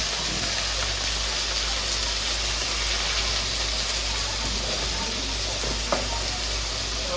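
Cumin, turmeric and salt sizzling in hot oil for a vegetarian soybean, cauliflower and potato dish, a constant close crackling hiss with a low steady hum beneath and one small clink near the end.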